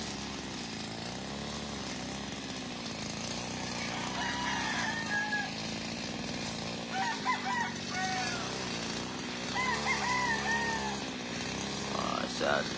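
Dan Gray Roundhead gamecock stags at a game farm crow several times in ragged bursts over a steady mechanical drone, while someone talks through much of it.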